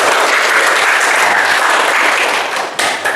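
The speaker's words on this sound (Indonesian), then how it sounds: "Tepuk tangan untuk kita semua." A classroom of students claps together in loud, dense applause that stays steady throughout and thins out slightly near the end.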